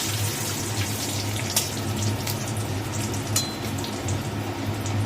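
Bay leaf and cardamom fry in hot oil in a pan, a steady loud sizzle with occasional crackles and spits throughout, no talking.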